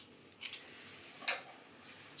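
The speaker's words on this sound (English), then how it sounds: "shape it with my scissors for now" Hair shears snip through tapered natural hair in three quiet, crisp cuts spaced about a second apart, close and soft against a faint room hiss.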